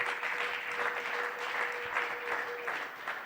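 A church congregation applauds during a Sunday praise and thanksgiving service, a steady wash of clapping lasting several seconds at even loudness, with a faint sustained tone running beneath it.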